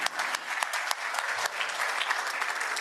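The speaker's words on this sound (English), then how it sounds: "So again, a round of applause for each of you, for yourselves, for doing what you're doing." Rotary club members clap together at a meeting, a dense, steady round of applause filling the room for a few seconds with no voices over it.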